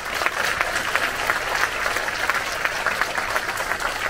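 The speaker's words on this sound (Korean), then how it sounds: "박수 한번 보내주십시오." A sustained burst of audience applause for the women lawyers of the Seoul bar association and the lawyers' group, with dense steady clapping throughout and no voices over it.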